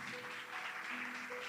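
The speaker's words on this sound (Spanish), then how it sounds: "Den un aplauso a Cristo." Church congregation applauding during a sermon, a soft continuous patter of many hands heard at a distance with a faint sustained tone underneath.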